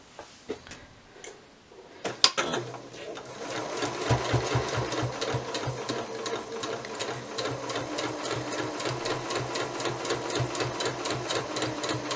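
Domestic sewing machine quilting through a patchwork fabric seam, starting after a few faint clicks and settling into a steady, rapid stitching rhythm that runs continuously and close up.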